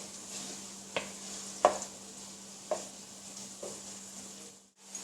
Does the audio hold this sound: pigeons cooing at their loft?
no